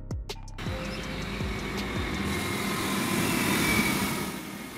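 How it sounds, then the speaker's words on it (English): A regional rail train rumbles steadily nearby, starting with a few wheel clacks over joints, then settling into a continuous engine drone and rolling noise that swells slightly toward the end. "Regional rail. A type of train service similar to commuter trains"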